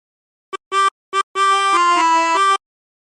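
A harmonica plays the opening phrase of the Battle Hymn of the Republic, a few short clear notes and then a longer sustained run of steady tones, clean and close with no other sound.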